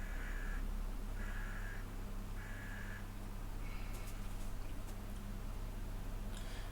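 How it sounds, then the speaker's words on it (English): Crows cawing outside an open window, four drawn-out calls spaced about a second apart over a steady low hum, followed by lighter clicks and taps. "those crows weren't making any sounds till my stream started"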